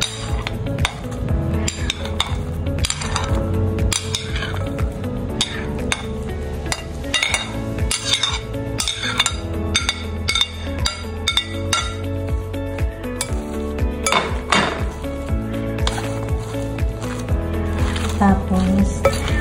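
Romaine lettuce, onion, avocado, cucumber and tomato are tossed together in a bowl for an Italian salad, giving soft wet squishing with utensil clinks and knocks against the bowl, close and continuous under background music.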